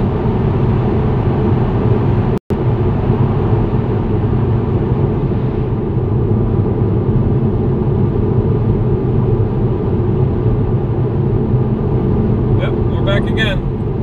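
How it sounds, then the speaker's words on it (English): A Tesla electric car cruising along a Norwegian road at sunset, giving a steady, close low rumble of tyre and road noise inside the cabin that barely changes, broken by one sharp click. "we are driving in the Norwegian sunset"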